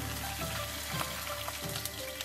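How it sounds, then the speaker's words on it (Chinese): A fish head fries in hot oil for about three minutes, giving a steady, dense sizzle and crackle that stays close and even throughout, with no voices. "煎了三分钟。"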